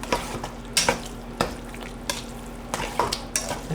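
Southern cornbread dressing being stirred in a bowl, a wet, irregular scraping and sloshing with a spoon that knocks against the side several times, close by and without talk.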